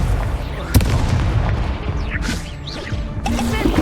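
A Confringo fire spell bursts in Hogwarts Legacy, a loud booming crack amid a dense clutter of combat impacts and magical whooshes, with further crashes and a sharp hit early on.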